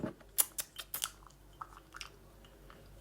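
Close, fairly quiet crunching as someone chews crunchy fried food, giving a few sharp bites followed by softer chewing.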